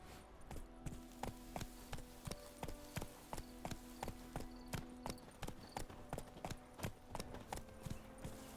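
Roach the horse galloping in The Witcher 3, with rapid, evenly spaced hoofbeats pounding close and clear for the whole stretch over a low background hum.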